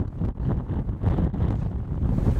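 Wind buffets a microphone outdoors during a late-season deer hunt in Idaho, a loud, gusty low roar that surges and dips across the short stretch with no voices.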